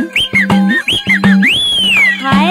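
A person whistles a lively tune, loud and close, with short chirping notes followed by one long swooping note, alone with no talk.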